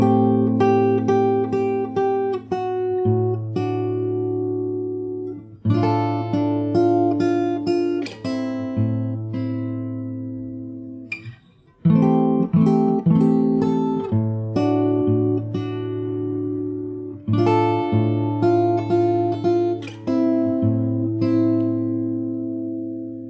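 Solo fingerstyle acoustic guitar plays the chorus of The Last of Us Part II main theme, plucked chords ringing in steady phrases with a short pause midway, close and unaccompanied.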